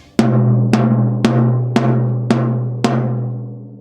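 A high tom drum fitted with a Remo Black Suede Emperor head, struck six times at an even pace. Each hit rings with a sustained, resonant tone, close and loud, and nobody speaks.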